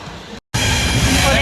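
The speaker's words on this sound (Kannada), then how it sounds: "ಕೊನೆಗೂ ಟ್ರೈನ್ ಹೊರಡ್ತು" Train noise as a train starts pulling away, a steady broadband rumble and rattle that cuts out briefly and then returns louder and continuous.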